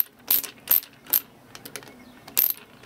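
Hose clamps being tightened on a homemade boost leak tester, giving a series of short metallic ratcheting clicks in separate bursts, close by with no talking.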